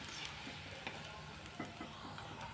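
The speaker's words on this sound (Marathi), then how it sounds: "आता कुरड्या तळून घेते मी" Kurdai rice crisps fry in hot oil with a soft, continuous sizzle and faint crackling, low and steady, with no talking.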